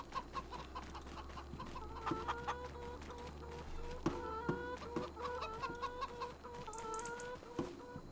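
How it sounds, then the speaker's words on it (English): Chickens in Farming Simulator 25 cluck repeatedly in short bursts over a low steady hum, close and moderately loud, with no one speaking. "I am going down to the chickens"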